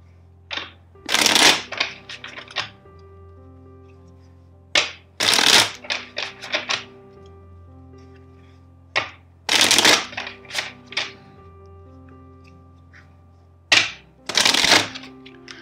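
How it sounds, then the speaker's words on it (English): Tarot cards are shuffled in four separate bursts of brisk riffling and flapping, close and crisp, with quiet gaps between each shuffle. "First, let's shuffle four times."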